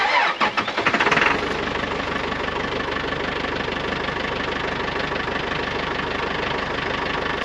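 A backhoe's diesel engine cranks and catches, then settles into a steady, loud idle as it warms up on a snowy day, with no voices over it.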